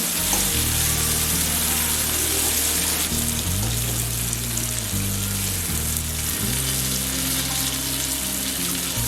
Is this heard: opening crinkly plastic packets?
no